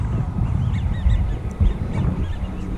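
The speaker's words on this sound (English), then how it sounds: "those ducks are making a crazy noise." Ducks honk and quack in overlapping bursts over low outdoor rumble by a river walk in Pueblo, Colorado, moderately near and fairly noisy throughout.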